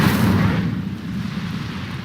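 An Incendio fire spell cast in Hogwarts Legacy bursts with a loud, heavy whoosh of flame that fades into a rumbling roar over about two seconds, with no voices.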